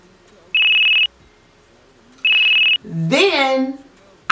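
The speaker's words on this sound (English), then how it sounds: "Rings about 50 times." A telephone rings twice with short electronic trilling bursts, and then a voice is heard briefly after the second ring.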